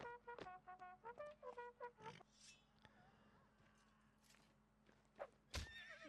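A horse whinnies loudly in the Mount & Blade North & South mod during a Napoleonic-era line battle, a rising and falling neigh followed by scattered thumps and clatter.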